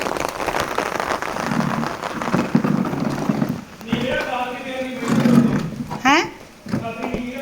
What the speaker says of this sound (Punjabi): ਮੀਂਹ ਵੱਧ ਗਿਆ ਜੀ